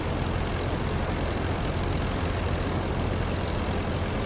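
A WWI biplane engine in the flight game Rise of Flight drones steadily at reduced throttle, a dense continuous propeller roar with a low rumbling hum, close and loud throughout with no variation.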